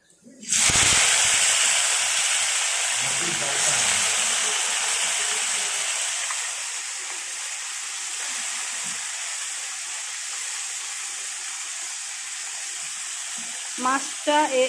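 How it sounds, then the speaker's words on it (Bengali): A loud sudden sizzle as darka fish drops into hot oil in a wok, settling into a long continuous frying crackle, with brief faint voices near the end. "এবার মাছটা কড়াইয়ে দিয়ে দেব"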